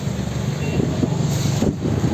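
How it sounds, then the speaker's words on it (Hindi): Strong wind gusting hard across an outdoor microphone, a loud, continuous low buffeting roar with uneven surges throughout, no speech heard. "देखो बहुत तगड़ी तगड़ी हवा चल रही बहुत तगड़ी वाली"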